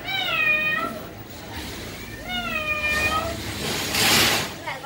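A domestic cat meows twice at close range, each call a clear drawn-out cry, with soft background noise and a brief rustle afterward.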